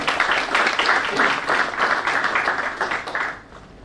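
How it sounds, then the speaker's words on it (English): An audience at a Goa Forest Development Corporation event applauds a welcomed speaker, with dense, steady clapping throughout that fades out near the end. "Give him a big round of applause, ladies and gentlemen."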